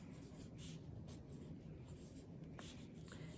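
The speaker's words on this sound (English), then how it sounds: "So now is the time that you flip it over and you write your name." A pencil or pen scratches out a name on paper during a third-grade art lesson, with soft, close, intermittent strokes over a faint room hum.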